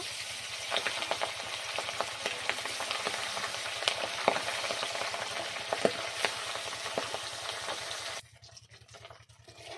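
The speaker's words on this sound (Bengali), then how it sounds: "মাছগুলো ভেজে নেব" Pabda fish frying in mustard oil in a pan, a close, steady sizzle broken by repeated scraping strokes of stirring, then cutting off abruptly near the end to leave only a faint hum.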